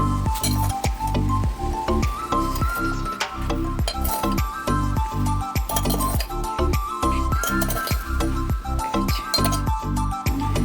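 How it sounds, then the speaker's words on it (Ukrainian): Eggs, salt and sugar for a chocolate cake batter are beaten by hand in a bowl, a brisk, rhythmic run of clinking and squishing strokes, close and steady throughout. "все це добряче перемішуємо."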